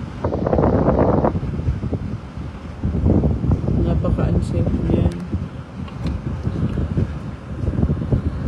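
Strong typhoon wind roars through Legazpi as a heavy, continuous low buffeting that surges in gusts, with a voice speaking briefly under the din.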